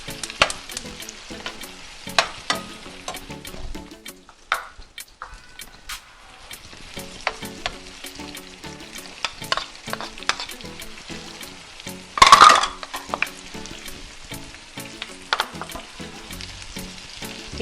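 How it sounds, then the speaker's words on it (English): Seasoning stir-fried in a pan for Jamaican-style tin mackerel and rice sizzles steadily, with repeated scraping and clacking of a utensil against the pan and a louder burst of frying partway through, no talking. "Put my seasoning in to start stir frying them."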